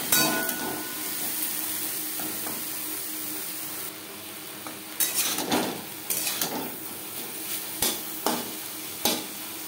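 Pumpkin greens cooked with green chillies are stirred in a pan over a soft sizzle, then a spoon or spatula knocks sharply against the metal rim several times, close and distinct.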